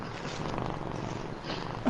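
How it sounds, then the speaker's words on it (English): A cat purrs close up in a continuous, rumbling motor-like drone, loud and steady with no voices over it. "You guys hear her purring? Yeah, she's motorboating again."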